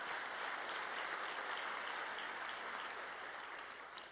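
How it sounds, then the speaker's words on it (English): An audience applauds at a surgical quality and safety conference in New York, a steady wash of clapping from a large room that holds evenly, then fades slightly at the end. "So maybe one more round of applause for everyone here"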